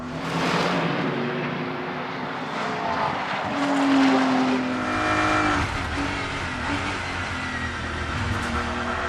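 Race cars of the FIA WEC lapping Spa-Francorchamps during qualifying, engines droning and revving as they climb the hill, with a rising-pitch whine sweeping through midway, continuous and fairly loud.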